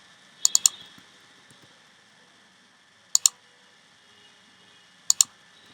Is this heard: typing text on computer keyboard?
yes